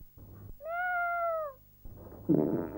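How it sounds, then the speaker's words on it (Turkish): A single long, clear cat meow, close and fairly loud, followed by faint rustling and a brief muffled noise. "Şimdi de miyavladı ha."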